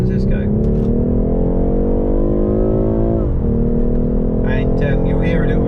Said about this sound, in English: I'm going to put it into sports mode, and I'm just going to show you, you know, what it accelerates like